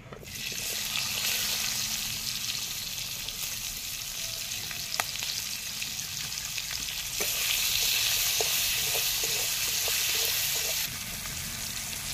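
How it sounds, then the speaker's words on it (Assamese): Chopped onion and tomatoes frying in hot oil with turmeric, a steady loud sizzle throughout, with occasional stirring scrapes and a brief surge of hissing partway through; no voices. "ইয়াতে বকনিয়াই থোৱা পিঁয়াজখিনি আৰু কণ বিলাহীকেইটা লগতে দি দিম।"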